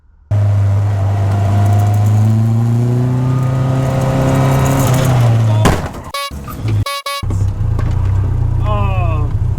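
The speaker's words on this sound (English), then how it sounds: "I actually got hit by a car at a roundabout in Wales" Caterham 7 car driving loudly at a roundabout in Wales, a steady engine drone that shifts pitch, then a sudden break with sharp bangs and crunches as another car hits it, followed by engine noise again.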